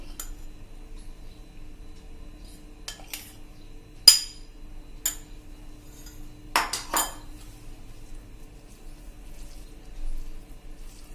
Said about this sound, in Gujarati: અને હવે આ બધું એકદમ સરસ આપણે મિક્સ કરી લેશું.